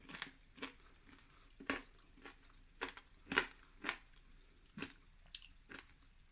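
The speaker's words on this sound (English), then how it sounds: "There's a bit of a crunch." Crunchy pork belly skin cooked in a kettle braai is chewed close up, with about a dozen irregular, sharp crunches spread over several seconds against a quiet background.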